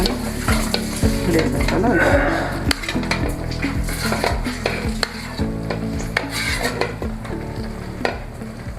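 Cooked rice being stirred and mixed in a pan of sizzling oil and masala for huli anna, a spoon scraping and clattering against the metal steadily throughout, close and fairly loud, with a brief word spoken.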